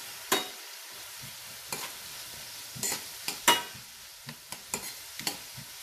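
Onions for squid vindaloo stirred in a hot pan, faint sizzling beneath a series of sharp scraping clicks from the spoon, spaced irregularly over several seconds.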